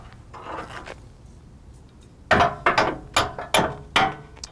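A heavy-duty pin is hammered into a wing plow, heard as about six sharp metallic strikes in quick succession after a short stretch of quieter scraping handling noise.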